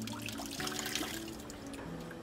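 Water running and splashing steadily at a small produce farm as leafy greens are rinsed, continuous and fairly quiet with no talking.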